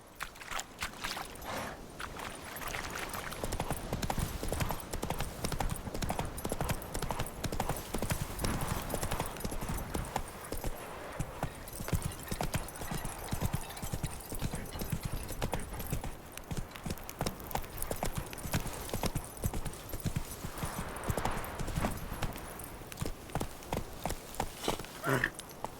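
Horse hooves gallop in The Witcher 3 video game, a steady rapid clip-clop of hoofbeats close by, continuous and fairly even throughout, with a faint background bed of ambient game sound.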